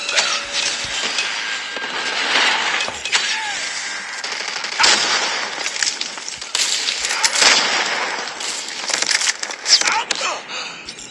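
A predator missile strike in Call of Duty Mobile, with dense bursts of gunfire and explosive crackling blasts rolling over several seconds, loud and close.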